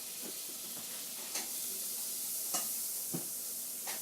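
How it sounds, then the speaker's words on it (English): A tablespoon of butter melts in the bottom of a pan for candied yams, giving a soft, steady sizzle close by, with a few distinct scraping stirs spaced out over several seconds. "Kind of stir around, let it melt."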